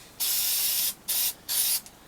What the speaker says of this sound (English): a good session with spray paint will do the trick.